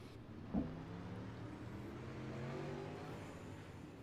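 Dirt track race cars rolling onto pit road, a distant steady engine drone with a brief louder thump early on, faint and continuous, no voices.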